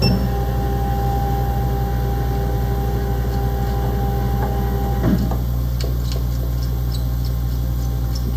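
A commercial laser cutter's motorized bed lowers with a steady mechanical hum and whine under a constant machine drone, a small clunk about midway followed by faint clicks, close and without talking.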